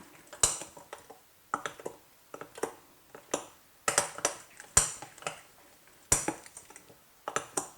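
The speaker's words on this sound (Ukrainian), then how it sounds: "І обережно замішую тісто." A spoon knocks and scrapes in a bowl in repeated short strokes, a steady stirring rhythm close by as apple pie batter with baking powder is mixed.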